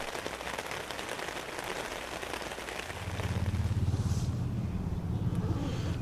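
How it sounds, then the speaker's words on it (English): Steady rain patters on a surface during a 24-hour motor race, and a low, distant race-car engine hum rises in the background midway and continues under the rainfall. "As it continues to rain, I also try to use the waiting time meaningfully."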